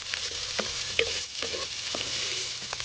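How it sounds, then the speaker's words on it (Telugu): Tomatoes and turmeric stirred in a hot pan for village-style naatu kodi pulusu, a soft steady sizzle broken by scraping spoon strokes at irregular intervals, close and fairly quiet, no talking. "పసుపు వేసుకొని మంచిగా కలుపుదాం."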